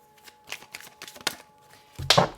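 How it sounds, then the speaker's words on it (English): A tarot card drops and gets picked back up, giving soft scattered card taps and rustles, then a louder, close shuffle of cards handled against a surface near the end. "sorry the card fell, I'm just picking it up"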